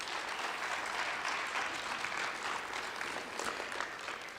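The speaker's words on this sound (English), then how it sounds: "let's give a round of applause to our contestants" An audience applauds pageant contestants with steady, sustained clapping from a crowd in a hall, fairly distant and even throughout.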